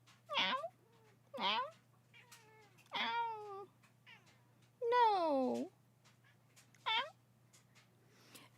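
A cat named Mimi meows repeatedly, about six separate close, clear meows with rising and falling pitch, spaced a second or so apart over a faint steady low hum.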